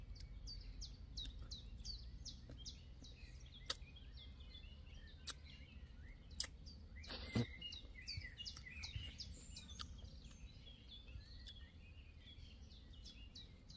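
Birds around a backyard cherry tree give repeated short, high chirps at a steady pace, fairly distant and soft over a low outdoor hum, with a brief louder rustle or knock partway through.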